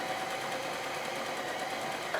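A mechanical sewing machine runs a basic straight stitch through two pieces of felt, producing a steady, fast, even whirring hum with rapid rhythmic needle ticks, close and continuous with no voices.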